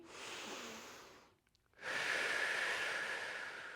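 Deep, slow breaths taken during a Pilates exercise, close and audible. A long airy exhale is followed by a short pause, then a strong breath with a slight whistle, with no talking.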